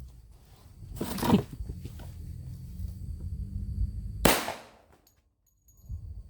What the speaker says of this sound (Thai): กระสุนหัวรู นะครับ จ็คเก็ตฮอลล์พอยต์นะครับ นะยิงขวดใกล้ๆนี่แหละใกล้ดีเนาะ